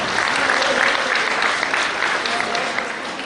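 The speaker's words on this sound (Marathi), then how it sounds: "जोरदार टाळ्या वाजवून या संयोजकांचा आपण आभार मानूया" An audience at a Buddhist dhamma conference in Kolkhapur claps loudly and steadily throughout, a dense, sustained burst of applause filling the hall.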